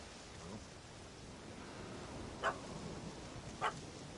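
Dog in The Witcher 3 chasing a cat up a tree: two short, faint barks a second apart over a steady ambient background, no talk.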